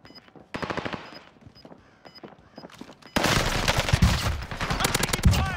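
Automatic gunfire in the Warzone video game, starting as spaced bursts amid quieter game sounds, then erupting into loud, sustained rapid fire in the second half.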